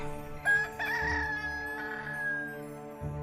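A rooster crows once, loud and close, with a drawn-out, wavering cock-a-doodle-doo call over a steady low background hum.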